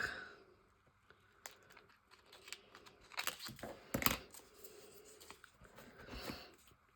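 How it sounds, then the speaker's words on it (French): Scissors cut a piece of paper during a Christmas collage craft, giving faint snips, rustles and crinkles of the paper, with a few sharper cutting bursts clustered near the middle, close and quiet. "je vais venir couper un morceau avec ce que l'on appelle communément des ciseaux"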